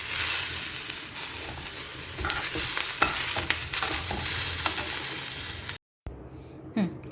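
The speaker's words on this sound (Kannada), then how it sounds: "ಕೊತ್ತಂಬರಿ ಅದಿಷ್ಟು ಹಾಕ್ಕೊಂಡು ಇನ್ನೂ ಸ್ವಲ್ಪ ಹುರಿಬೇಕು" Coriander seeds fry in a pan with a continuous close sizzle, punctuated by scraping stirs and clicks, before the sound briefly cuts out and resumes more faintly near the end; no one speaks.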